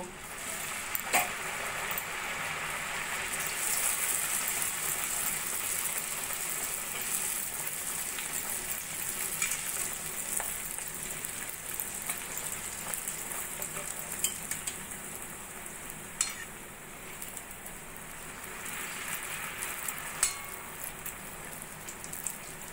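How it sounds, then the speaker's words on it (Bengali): Bhature deep-frying in hot oil, one at a time, give a steady broadband sizzle that keeps going through the whole stretch at moderate loudness, with occasional brief crackles and no talking. "এবার আমি একটা একটা করে ভেজে নেব"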